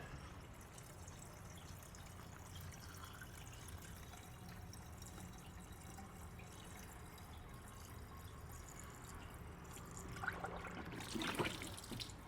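Coolant poured into the cooling system of a BMW 335i during a cooling system overhaul, a steady, quiet liquid pour running continuously, growing slightly louder with some gurgling toward the end.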